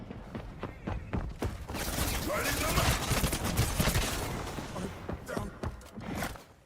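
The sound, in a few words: gunfire in the Highguard video game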